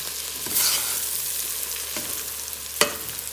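Spices stirred into a pasty base in a pot for Mexican vegetable soup give a steady close sizzle and frying hiss, with a few scraping strokes of the spoon and no talking.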